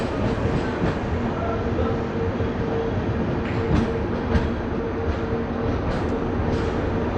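A special festival train pulls out of Yelahanka Junction at night, heard from on board as a steady loud rumble with rhythmic wheel clatter and occasional clanks.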